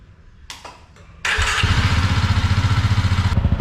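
A motorcycle engine is cranked with a few clicks and then fires up, settling at once into a loud, close, steady pulsing idle.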